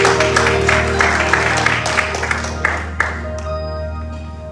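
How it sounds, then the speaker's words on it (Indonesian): Audience applause at an evening gathering honoring a retired navy rear admiral, a burst of clapping over a steady low musical hum that thins out and fades toward the end. "Boleh kita berikan tepuk tangan"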